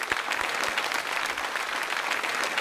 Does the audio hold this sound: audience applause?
yes